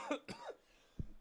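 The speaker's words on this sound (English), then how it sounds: "Oh God, I'm sussed out by that cough" A single short cough close to the microphone, followed by a brief throat-clearing sound and a soft low thump, in an otherwise quiet room.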